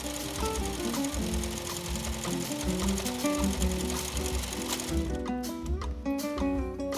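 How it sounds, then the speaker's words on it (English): Sewing machine stitching pinned fabric pant panels together, a steady close mechanical whir with rapid rhythmic needle chatter throughout, with no talk. "Once again, all pinned up, ready to be sewn."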